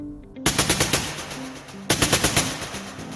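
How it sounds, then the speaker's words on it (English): Rifle gunfire rings out in two loud rapid bursts of about half a dozen shots each, echoing across a plaza, with a short gap between bursts and no voices. "In seconds, the sound of gunfire echoed through the plaza"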